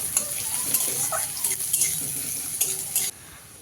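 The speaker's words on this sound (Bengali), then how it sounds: "পেঁয়াজটাকে আমি কিন্তু সুন্দর করে লাল লাল করে দেখো ভেজে নেবো" Finely sliced onion fries in a pan until reddish, giving a continuous bright sizzle with intermittent spoon-against-pan stirring clinks, close and fairly loud, ending abruptly.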